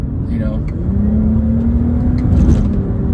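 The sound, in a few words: car engine revving, throttle blip rev match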